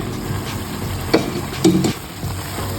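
Ghee and chopped nuts sizzle in a pan of bottle gourd halwa, a steady close frying hiss broken by a few sharp scrapes and clinks of stirring.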